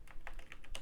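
Fast, light keystrokes on a computer keyboard during a session building a game map in Unreal Engine 4, a quick irregular run of about half a dozen close, faint clicks with no talking.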